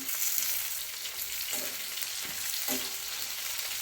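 Bitter gourd pieces are sautéed in plenty of sesame oil over medium heat, making a steady, soft hissing fry with a few spoon scrapes and stirs, close by and even.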